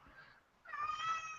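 A house cat meows twice, close by: a short, softer cry and then a longer, louder, more tonal wail, with no talk over it.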